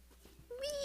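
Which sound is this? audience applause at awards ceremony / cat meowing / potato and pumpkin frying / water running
cat meowing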